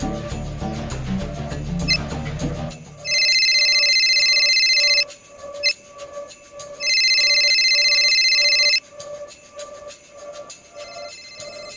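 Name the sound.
mobile phone ringing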